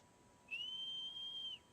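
In Shadow of the Colossus, a single clean, high whistle is blown to call the horse. It rises briefly, then holds level for about a second before cutting off, against a quiet background.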